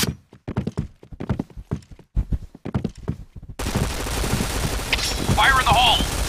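Rapid gunfire in the shooter game Point Blank, sharp bursts of shots in quick sequences, then a denser, louder stretch of continuous firing and game effects with a rising electronic tone.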